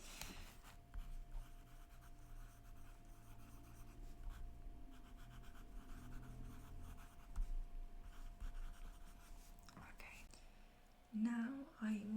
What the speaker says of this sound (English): I'm kind of just going to write this down